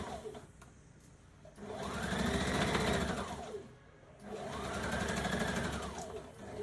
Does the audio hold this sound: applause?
no